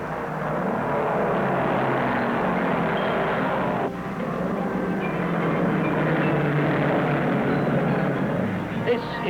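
Racing cars from 1963–64 moving off on the pace lap at a speedway, a loud continuous engine roar filling the scene throughout with a broad crowd-like wash and announcer talk over it.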